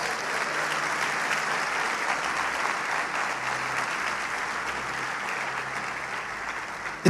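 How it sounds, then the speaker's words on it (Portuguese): A church congregation breaks into loud, sustained applause, a dense, even roar of clapping from many hands lasting several seconds. "Quem ama o Senhor pode aplaudir"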